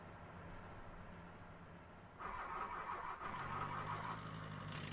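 A car engine in the driving game The Long Drive cranks and catches, a quiet hum jumping to a louder churning start, then settling into a rough idle, with no talk.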